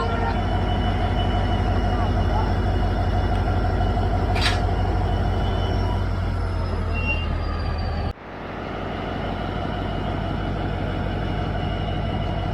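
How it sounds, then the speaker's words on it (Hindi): A diesel locomotive, just uncoupled from the Brahmaputra Mail, idles with a loud, steady engine drone and a brief air hiss midway, then its rumble cuts away and quieter train ambience continues. "तो ये अपना डीजल लोकोमोटिव अलग कर दिया गया है और बेचारा चला गया है।"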